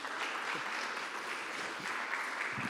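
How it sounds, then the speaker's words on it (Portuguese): Steady applause from a congregation during a Holy Spirit church service, dense clapping that fills the room continuously with a few louder bursts. "Uma salva de palmas para o nosso Espírito Santo."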